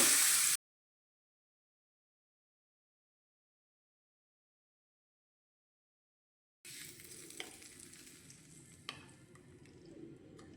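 Mustard seeds, Kashmiri red chilli and masala sizzle in oil for a potato-onion raita tempering, a soft crackling fry with occasional sharp pops, heard briefly at the start and again after a silent gap.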